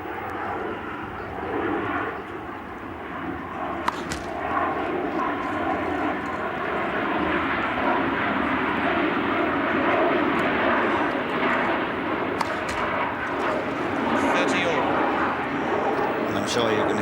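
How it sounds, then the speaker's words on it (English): Aircraft droning overhead during a 1983 Queen's Club semi-final tennis match, a steady broad engine roar sustained throughout and blending with crowd and court ambience, with a few brief sharp sounds rising over it. "I'm sure you can hear the sound of aircraft overhead"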